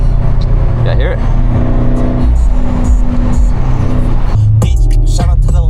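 Loud Ford Mustang S550 engine revving on the street: a deep, continuous rumbling exhaust roar with rising and falling revs, with people talking loudly over it.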